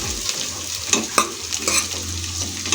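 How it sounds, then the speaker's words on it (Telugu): Chopped pistachios and dry dates roast in ghee for Sheer Kurma, a steady close sizzle broken by sharp scrapes and knocks of a spoon stirring the pan, with no voices. "కట్ చేసిన పిస్తా డ్రై ఖర్జూర్ ఇవి కొంచెం రోస్ట్ చేసుకోవాలి గీలోనే"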